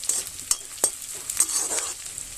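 Sliced onions and a couple of green chilies frying in a pan, with a steady sizzle broken by repeated scraping strokes of a stirring spoon at irregular intervals, close and clear with no talking.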